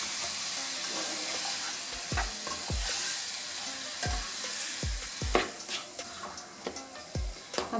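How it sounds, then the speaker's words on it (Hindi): Chopped tomatoes being stirred into a softened base in a sizzling pan for homemade pizza sauce, with a steady frying hiss throughout and repeated soft scraping strokes of the spoon, several in quick succession toward the end. "अब इसके अंदर जो हमने टमाटो चॉप किए थे वो डाल देंगे सारे। अच्छे से मिक्स करेंगे।"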